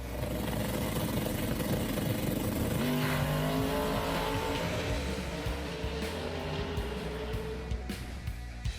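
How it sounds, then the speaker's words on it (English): A homemade car's motor runs steadily and loudly, a continuous engine drone with a slight rise in pitch partway through and constant background noise throughout. "Just listen to the sound of this motor."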